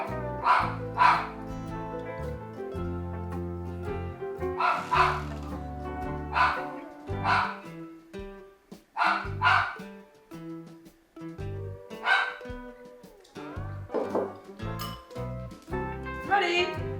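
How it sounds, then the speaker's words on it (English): A dog barks repeatedly outdoors in a garden, with sharp, evenly spaced woofs and yips at moderate distance, continuing in a steady rhythm of barks with short pauses between them. "That dog barks all day."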